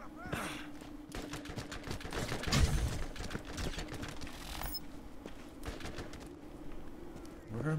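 Rapid gunfire in the Borderlands video game, dense bursts of shots and mechanical clatter running throughout with a steady electronic hum underneath, one louder burst near the middle.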